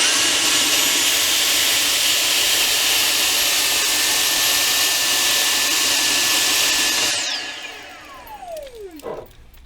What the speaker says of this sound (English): to suck all the rice out of the glass. So I'll start off with the V6